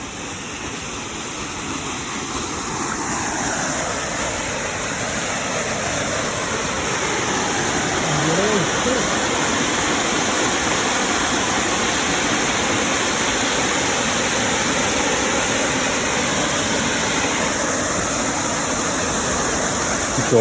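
Clear flowing water at a scenic tourist spot in Ghatsila, a steady broadband rush of stream or small waterfall that swells slightly in the first seconds and then holds constant and fairly loud, with no voices.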